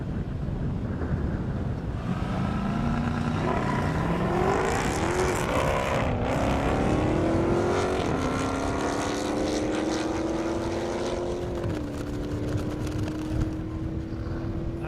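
Drag race cars at a half-mile airstrip event, a Mercedes-AMG and a Dodge Hellcat running an unleaded ethanol blend, roar past with rising engine tones and gear changes, loud and sustained over steady outdoor noise.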